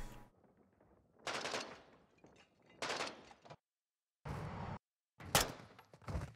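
Gunfire in the Call of Duty: Modern Warfare II video game, with several loud bursts of automatic fire separated by short quiet gaps and sharp cutoffs.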